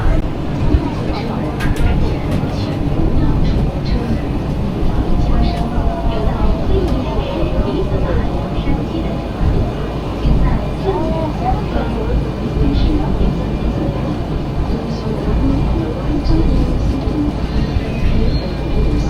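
Steady low rumble of a Chongqing metro train interior in motion, with continuous rolling noise and faint scattered voices in the carriage.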